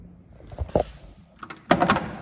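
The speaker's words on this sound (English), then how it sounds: "Opening the door here." The door of a 1968 Chevrolet Camaro RS convertible opens with a latch click and a metallic clunk, then a second louder thud as it swings, close by.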